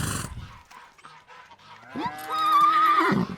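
After a short burst and a quiet pause, a horse lets out a single high, wavering whinny that rises and trails off near the end, loud and clear with no talking.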